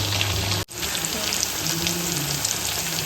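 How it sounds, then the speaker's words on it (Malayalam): Chicken kebab pieces fry in a pan over a low flame, giving a steady, close, dense sizzle and crackle throughout, with one brief dip near the start. "ഇതിപ്പോൾ ഏകദേശം ഒരു ലോ ഫ്ലെയിമിൽ 8 മിനിറ്റ് ഇതിനെ ഫ്രൈ ചെയ്ത് ഇപ്പോൾ ചിക്കൻ ഫ്രൈ ആയിട്ടുണ്ട്"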